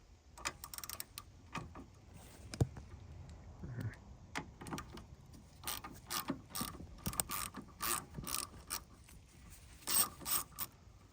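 Ratcheting clicks from a wrench loosening the negative battery terminal clamp on an Acura MDX, a series of quick close metallic clicks in bursts with short pauses, moderately loud with faint handling noise between.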